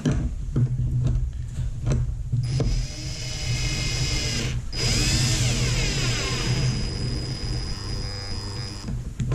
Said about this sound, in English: And I'm gonna tighten up my first clamp.